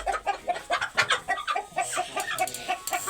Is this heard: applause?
no